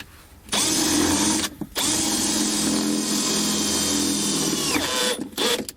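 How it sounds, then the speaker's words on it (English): Power drill boring mounting holes in a 2014 vehicle during an air compressor install, a loud whining run broken by a brief pause, then a longer steady drilling burst that winds down near the end. "we're going to drill out the top 2 using the ECU as a template"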